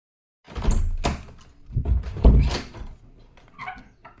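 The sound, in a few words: banging on a door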